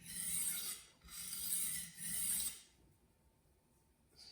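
KAI santoku knife of VG10 steel stroked across a waterstone with light pressure to reduce the burr: three close, soft rasping strokes in a steady rhythm, then near silence.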